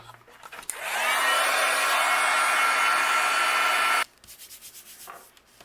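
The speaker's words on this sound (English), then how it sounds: "And I'll use my heat gun and we'll melt this." A heat gun roars on steadily for about three seconds as it melts craft material for a poppy flower project, a loud continuous blowing whoosh with a faint whine, then cuts off, leaving quiet handling noises behind.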